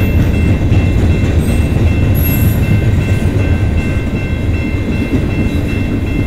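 A CN freight train rolls by close on the Dundas Subdivision in London, Ontario, producing a loud, continuous rumble and wheel noise that holds steady throughout, with no speech.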